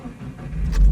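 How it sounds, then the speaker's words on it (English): A manual-transmission car's engine starts up, a low rumble building steadily and growing louder over under a second, heard close and alone. "turn on the car"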